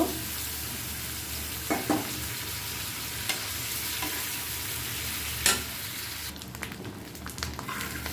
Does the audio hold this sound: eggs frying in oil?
yes